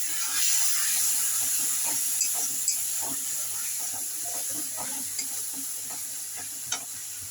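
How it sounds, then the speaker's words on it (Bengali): A small splash of water poured onto hot spice paste in a pan sets off a continuous steamy hiss and sizzle, with soft scraping stirs and a few sharp clicks of the spatula against the pan. "সামান্য পরিমাণ জল দেবো, নাহলে মশলাটা তলায় ধরে যাবে।"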